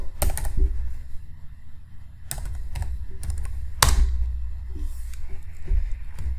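Fingers tap out a few words on a computer keyboard, sharp separate clicks in short bursts over a steady low background hum, close and fairly clear.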